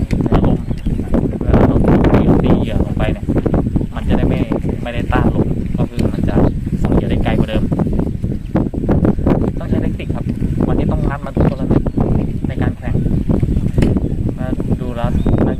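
Gusty outdoor wind buffets the microphone at a snakehead fishing competition in Bang Pla Ra, Nakhon Nayok, a steady rough roar running beneath continuous close talking.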